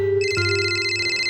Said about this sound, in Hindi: क्राइम ब्रांच से फोन है।